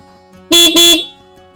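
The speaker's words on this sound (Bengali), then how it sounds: "গেটের সামনে দাঁড়িয়ে দুই তিনবার হর্ন দিলাম" Two short, loud honks from a motorbike horn in quick succession, close by, against a quiet background.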